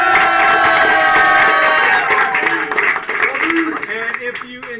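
A studio audience at a live comedy show breaks into loud, dense applause with cheering and whoops, holding strong before thinning out into scattered clapping and voices.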